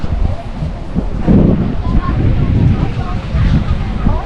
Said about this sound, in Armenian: Քամի է այս բանս։